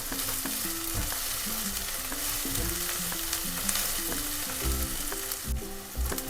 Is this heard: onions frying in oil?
yes